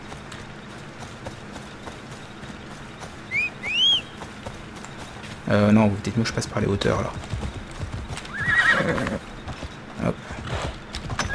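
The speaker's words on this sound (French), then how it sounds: "on va rappeler le cheval" Horse in the video game Assassin's Creed Odyssey, heard as steady hoof clip-clop that swells into louder galloping beats, with someone talking over the hooves and game sounds throughout.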